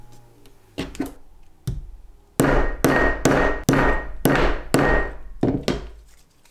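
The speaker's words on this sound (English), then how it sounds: "Hammer down both rivets." Hammer blows setting both metal rivets on a handmade abstract Christmas ball ornament: two light taps, then about six loud, sharp ringing strikes in a steady rhythm, close up, with no talking.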